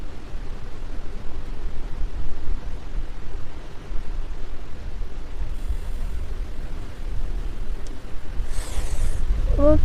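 Wind blows outdoors on a rainy evening as a steady broadband rush with gusting low rumble, a faint brief chirp near the end.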